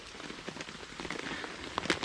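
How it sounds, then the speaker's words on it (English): Rain patters steadily on an Alpkit Soloist tent while wild camping on a bicycle trip, a dense, fairly quiet drumming with a few louder drops near the end and no voices. "it's raining and it's not very pleasant out here"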